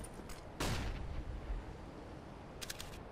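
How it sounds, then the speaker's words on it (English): A Counter-Strike flashbang goes off as one sharp, loud bang that quickly decays, followed later by a brief metallic click, with no voices. "I'm throwing a flashbang."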